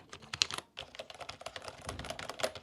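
Fingers type on the number keys of an AULA S99 mechanical keyboard connected over Bluetooth, a quick irregular stream of close, crisp clacks with a brief pause early on and no talking.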